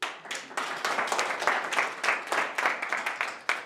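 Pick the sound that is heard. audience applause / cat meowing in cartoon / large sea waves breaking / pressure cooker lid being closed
audience applause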